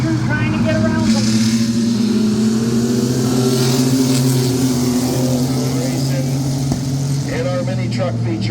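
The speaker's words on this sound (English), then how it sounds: "Racing in our mini truck feature right now" O'Reilly Auto Parts mini trucks race in a feature at Midvale Speedway, their engines a loud, continuous droning roar that rises and falls in pitch as they pass, with a voice speaking over the racket.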